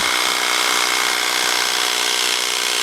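A Worx Hydroshot pressure washer sprays wooden garden decking, giving a loud, steady hiss that carries on without a break and with no voices.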